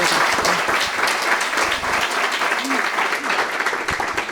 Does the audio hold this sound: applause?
yes